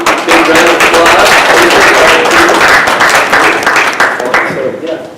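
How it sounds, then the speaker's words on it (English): An audience at a city council community meeting bursts into loud, sustained applause for the interim fire chief, a dense wash of clapping that holds steady for several seconds before slowly thinning. "give our fire chief a big round of applause"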